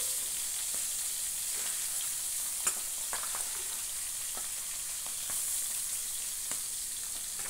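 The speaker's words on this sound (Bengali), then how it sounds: "এবার মাথাগুলোকে ভেজে নেব। মাথাগুলো তেলের মধ্যে ছেড়ে দিচ্ছি।" Hilsa fish heads frying in hot oil in a kadai, a steady quiet sizzle with scattered crackles and pops, alone without talk.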